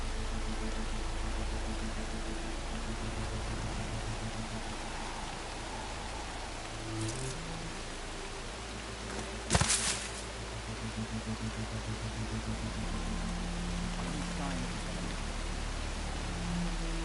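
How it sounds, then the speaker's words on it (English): Heavy rain pours steadily in a video game, a dense constant hiss with low ambient tones underneath and a brief sharp crackle near the middle, no voices heard. "Rain's really coming down."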